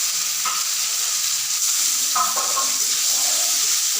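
Bitter gourd slices coated in turmeric and salt sizzle steadily in hot oil with fennel seeds, a dense continuous frying hiss with occasional stirring scrapes, no voices.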